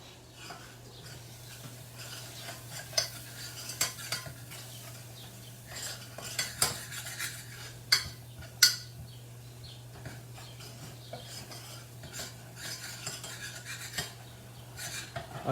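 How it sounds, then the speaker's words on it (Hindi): Ginger garlic paste stirred and sautéed in a pan, a spoon scraping and clinking against the metal in scattered taps with a faint sizzle beneath and a steady low hum, no talk. "तो इसको थोड़ा सा और भूनेंगे ताकि अच्छे से जिंजर गार्लिक पेस्ट भून जाए"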